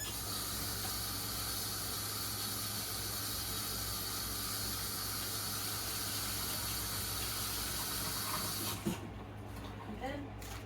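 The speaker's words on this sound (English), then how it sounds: "Rinse this off." Tap water runs steadily as a kitchen item is rinsed, a continuous hiss that cuts off near the end, followed by a few faint clatters.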